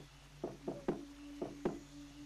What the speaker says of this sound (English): I suppose that knock isn't getting me in anymore